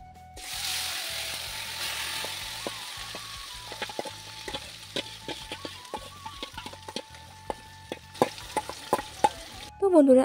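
Spiced food fries in oil in a kadai, a steady close sizzle punctuated by frequent sharp clanks and scrapes of a stirring utensil, growing busier toward the end.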